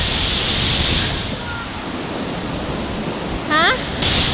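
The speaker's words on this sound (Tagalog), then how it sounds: "this waterfall is so crazy, freaking amazing" Waterfall at Nungnung in Bali, a steady broadband roar of falling water that fills the whole clip, with a brief chirp of birdsong near the end and a faint voice underneath.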